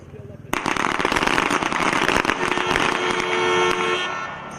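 A burst of pistol shots erupts at a team pistol match of the U.S. Army Small Arms Championships, dense rapid cracks from several shooters firing at once, loud and continuous, with voices under the gunfire.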